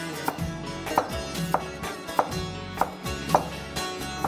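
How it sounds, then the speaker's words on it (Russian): Knife chopping carrots into medium-thick sticks for plov on a board, a steady series of sharp taps roughly every half second, close and clear, with no talking. "Морковь я нарезаю вот такими брусочками, не сильно тонкими"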